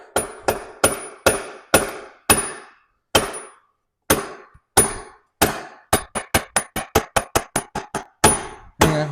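Hammer tapping the wheel axle home on a Honda CRF250R motorcycle: a long series of sharp metallic strikes, slow and evenly spaced at first, then speeding into a quick run of taps, close and loud with brief ringing decay.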